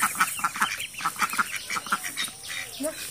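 Ducks being fed leftover rice quack and honk in a rapid, close chorus of repeated calls that thins out toward the end, with a voice briefly present.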